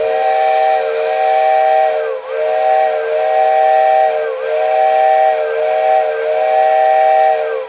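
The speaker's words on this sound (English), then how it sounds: "it gives you an instant steam whistle for your layout" A Marx electric model train steam whistle running on 12 volts sounds steadily and loudly in repeated long blasts with brief dips between them, a chord of tones over a hissing background.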